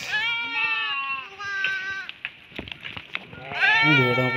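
A flock of sheep gathering in the evening near a forest, bleating in a string of loud, close calls with more calls overlapping toward the end, while people talk nearby.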